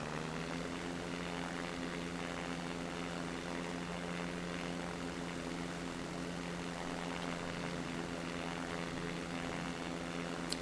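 A propeller plane in SimplePlanes drones forward with a steady, buzzing engine hum and a layered whirring tone, constant and close throughout, with no talk.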